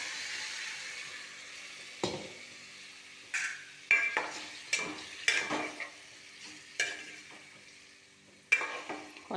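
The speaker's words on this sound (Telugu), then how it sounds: "వేగింది కదా, ఇప్పుడు ఈ చికెను దీంట్లో వేసేసుకుందాం." Chicken pieces stirred into frying masala in a pan for chicken curry, with a steady sizzle under repeated scraping strokes and clanks of a spoon against the pan.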